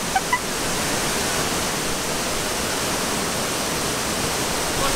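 A waterfall in Bonito, Brazil pours in a steady, even rushing hiss, continuous and moderately distant, with a couple of faint brief chirps near the start.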